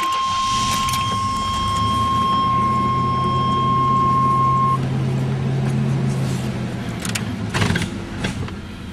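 A Chevy S10 pickup truck being driven gives off a steady, close engine and road drone, with electronic chime tones early on and a few clunks near the end; no one speaks.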